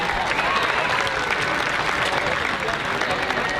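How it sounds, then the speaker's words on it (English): Loud crowd applause at a Victoria HarbourCats vs Portland Pickles baseball game, a thick unbroken wash of clapping and cheering from the stands filling the whole stretch. "How about a big round of applause for Wallace Driving School"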